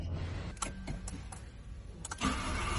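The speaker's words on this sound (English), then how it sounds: "The starter is changed. Let's try it." A Peugeot 406 Coupé V6 engine is cranked by a newly replaced starter: several short whirring cranking bursts, then the engine catches and fires at the end, heard fairly quietly with no talking.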